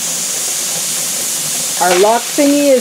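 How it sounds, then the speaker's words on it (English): A pressure canner hisses with a steady broadband rush of escaping steam while split pea soup is being canned, the venting continuous and fairly loud throughout, with a person talking briefly over it near the end. "As you can see, we've got the steam coming."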